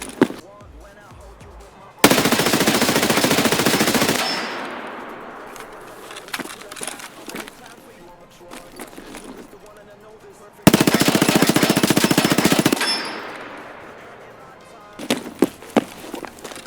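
SMG fire from an MP7, MP5 and MPX in the shooter game Escape From Tarkov: two loud sustained full-auto bursts of about two seconds each, separated by quieter shuffling and clicks, with a few sharp single shots near the end.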